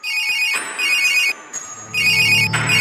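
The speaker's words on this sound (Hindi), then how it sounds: "बाबा सबसे पहले गुल्ली को फोन लगाते हैं।" A phone ringtone plays in bright, repeating electronic bursts, loud and close, with short pauses between rings and no talking.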